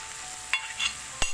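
Pre-fried chicken drops into hot gravy in a pan for chicken changezi, a brief close sizzle with a couple of sharp stirring scrapes.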